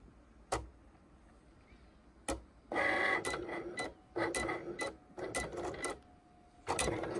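A Cricut cutting machine draws with a pen, its carriage motor whirring in several short mechanical bursts between sharp clicks, close and fairly loud in a quiet room.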